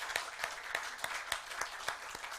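Church congregation applauding during an elders' ordination service, steady rhythmic unison clapping at a moderate distance, filling the whole moment without speech.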